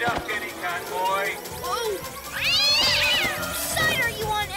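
Cartoon cats from PJ Masks meow and yowl in several rising, wavering calls amid busy animated action and clatter, with character voices talking around them.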